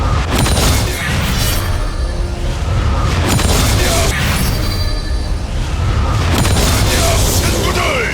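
Gangplank's bomb barrage in League of Legends sets off dense, loud booming blasts and rumbling impacts that layer into a continuous roar, while a voice speaks over them.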